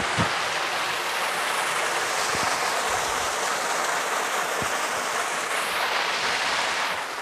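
Water rushes and splashes continuously, a steady broad roar of a nearby hot spring waterfall at Cangar, Batu, with no voices.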